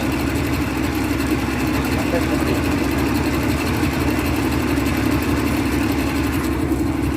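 A Yamaha 40 hp outboard boat engine, just fitted with a new water pump impeller, runs at a steady close-up drone while someone speaks briefly over it.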